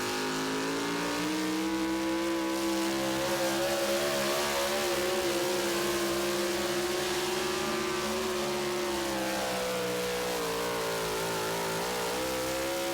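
The pulling truck "The Outrage" at the 2023 Tomah, Wisconsin truck pull gives a loud, sustained engine roar. Its pitch climbs and strains steadily as it pulls, with no voices over it.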